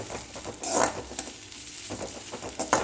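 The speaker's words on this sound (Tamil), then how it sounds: "அந்த வெங்காயத்துக்கூடயே நல்லா வதக்கிக்கலாம்." Onions sautéing with curry leaves in a pan for a Tamil potato fry, a soft sizzle under a few scraping stirs of a spoon, close and moderately quiet, with no talking.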